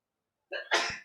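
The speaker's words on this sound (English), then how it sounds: "I don't know if you heard my wife sneeze then" A single sneeze, sharp and close, with a brief inhaled lead-in followed by a forceful burst, alone in silence.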